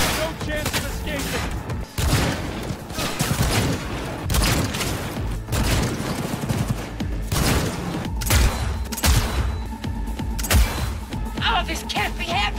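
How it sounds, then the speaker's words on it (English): Rapid gunfire from a firefight in Cyberpunk 2077, loud volleys of shots in bursts with heavy thumps and booms, mixed with shouting game voices. "All units report. Opening fire."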